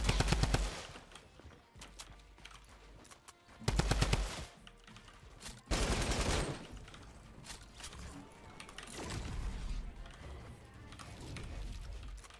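Bursts of automatic gunfire from a Fortnite weapon, a few loud rapid volleys separated by quieter stretches of game noise and rattling.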